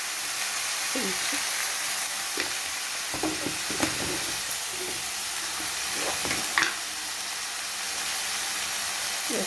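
Tomatoes frying with turmeric in a hot pan, a steady broad sizzle with scattered clinks and scrapes of stirring throughout.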